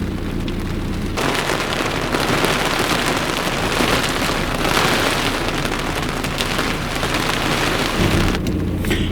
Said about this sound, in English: the irony of it pouring with rain when we're changing the coolant is not totally lost on us